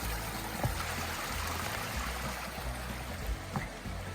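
A brook flows steadily at a stream crossing on a High Peaks hike, a soft continuous rush of running water with faint trickles, moderately distant and low in level, with no talk.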